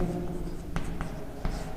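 Pen or chalk scratching across a writing surface in a class-10 maths lesson, short strokes with a few sharper taps, heard close alongside a speaking voice.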